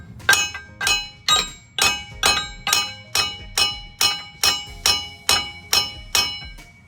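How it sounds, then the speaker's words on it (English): A hammer strikes the propeller nut on an inboard Malibu WakeSetter LSV25 wake boat about a dozen times in an even rhythm, each blow a sharp, ringing metallic clink, close and clear with no talking. "When I hit the top of that nut right there with the hammer, then that prop might break loose"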